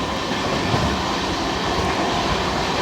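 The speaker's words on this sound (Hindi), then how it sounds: "गाड़ी अपनी फुल 110 में भाग के जा रही है भाई।" An express passenger train, the 14624 Seer Govardhanpur–Varanasi Express, runs at about 110 km/h near Jandiala station, giving a steady, loud, continuous rumble of wheels and carriages with no pauses.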